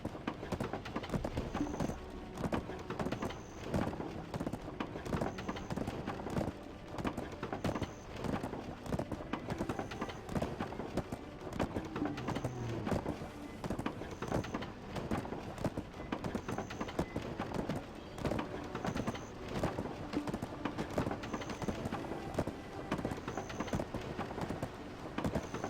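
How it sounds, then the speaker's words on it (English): Horse hooves galloping in the video game Black Desert, a steady, continuous clip-clop beat that runs the whole time at an even, moderate level. "I just drove my horse right through the middle of the parade"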